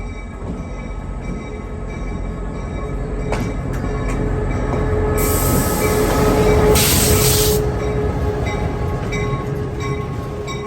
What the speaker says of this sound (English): If you're enjoying our train ride today